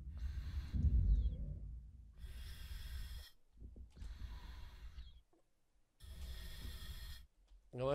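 Heavy, loud breathing from a character in Wolfenstein: The New Order, with several long, rough, snort-like breaths in bursts separated by short pauses.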